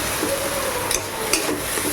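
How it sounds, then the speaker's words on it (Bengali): An egg mixture fries in oil in a pan with a steady, close crackling sizzle, a few faint clinks of utensils breaking through the continuous hiss. "এটা ভাজা ভাজা হতে থাক"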